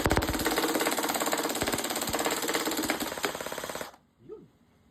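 A gun fires on full auto in a rapid, continuous burst of sharp shots lasting close to four seconds, loud and near, then stops abruptly, leaving a brief faint sound.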